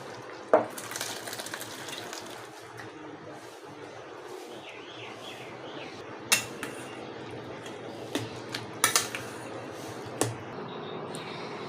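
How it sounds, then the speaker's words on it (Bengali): Cooked vegetable curry being emptied out of a pan, scraping and clinking of a utensil against metal with soft sizzling and occasional sharp knocks, plus faint birdsong in the background. "এখন আমি তরকারিটা ঢেলে দেবো"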